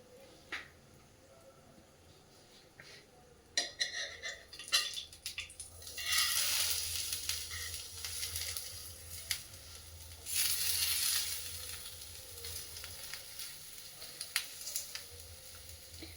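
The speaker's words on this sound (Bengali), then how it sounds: "এবার এখানে একটুখানি আলু ভাজা" Boiled potatoes frying in a pan in a home kitchen. The sizzling swells in loud, hissing waves, with scattered clicks and scrapes from stirring.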